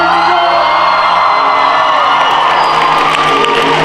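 A dense crowd at an MLK Day performance roars with sustained cheering and whooping, loud and continuous throughout.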